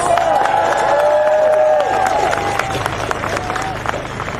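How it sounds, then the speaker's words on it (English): An outdoor crowd at a clean water march claps and cheers for a speaker, a fairly loud burst of applause with whoops that fades over a few seconds. "Please give him a warm round of applause."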